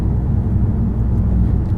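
Steady low engine drone from a Ford Mondeo 2.5T being driven, a constant loud rumble heard from inside the car without any talk.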